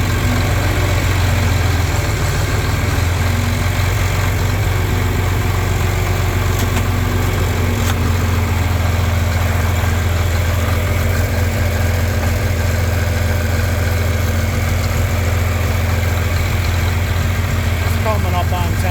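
A John Deere 4020 tractor engine idling while warming up to temperature after restoration, a loud, steady, low diesel rumble that holds unchanged throughout, close by.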